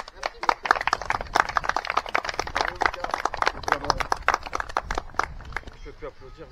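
Rapid, dense clapping from an audience at an enduro fishing competition prize announcement on a pond, a steady burst of applause lasting several seconds and fading slightly at the end.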